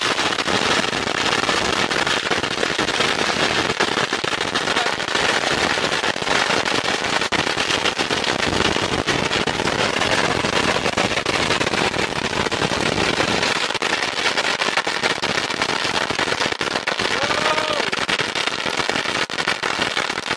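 A long-fuse mercon firecracker string bursts in a dense, nonstop crackle of rapid explosions, loud and close, sustained for about twenty seconds outdoors on a hill.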